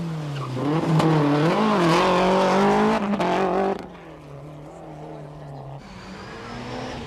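Rally car on tarmac overshooting a corner at the 1994 Ulster Rally, its engine loud and revving up and down before dropping away, then a quieter steady engine note from a distance.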